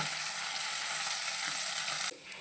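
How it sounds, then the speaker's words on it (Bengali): Small mourala fish frying in hot oil, a close, steady crackling sizzle that briefly drops in level near the end. "আর মাছের একটা পিঠ ভাজা না হলে কিন্তু নেক্সট পিঠটা আমরা উল্টাবো না"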